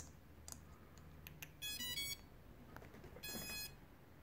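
Two short electronic beep melodies from a drone's ESCs during calibration, each a quick run of rising tones, sound against quiet background clicks and faint handling noise.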